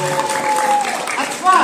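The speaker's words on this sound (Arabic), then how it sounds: "تصفيقة." Children in an audience clap for an Algerian storyteller at the end of a tale, a brief burst of applause mixed with voices, building slightly at the end.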